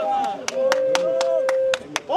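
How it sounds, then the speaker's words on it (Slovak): An audience at a livestream event in Slovakia claps in a quick, even rhythm of about eight claps over a sustained tone, loud and close. "Potlesk!"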